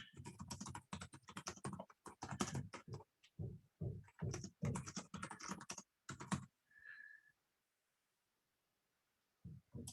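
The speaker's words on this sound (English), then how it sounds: "I'm typing an issue right now." Someone types on a computer keyboard during an online developer meeting, a quick irregular run of crisp key clicks in bursts, then a pause broken by a brief soft tone.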